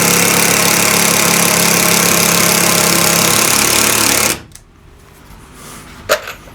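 A power driver sinks a long screw into a wooden bench top pushed against a wall, a loud steady buzzing whir for about four seconds that cuts off abruptly, then a quiet room and one small knock.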